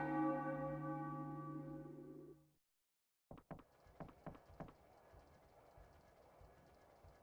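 A bell strikes in Final Fantasy IX: a sustained, harmonically rich tolling fades out over two seconds, followed by silence and then a series of short, sharp clopping knocks.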